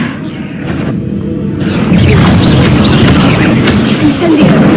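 A Confringo blasting spell erupts in Hogwarts Legacy, aimed at eggs that are to be destroyed. A loud, sustained rumbling explosion with whooshing bursts swells after a brief quieter start, and game voices mix in beneath the blast.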